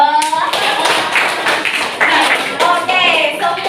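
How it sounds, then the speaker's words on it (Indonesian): Children in a classroom break into applause, a quick patter of clapping hands with young voices mixed in, all close and fairly loud. "Tepuk tangan dong."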